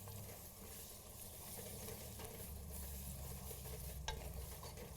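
A stew base sautés in a pot with a faint, steady low sizzle that holds evenly throughout, with one brief tap near the end.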